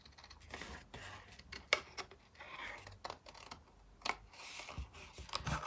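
Paper being trimmed around the edge of a Tim Holtz paper doll with quiet, irregular snips and small clicks, close by in a calm room.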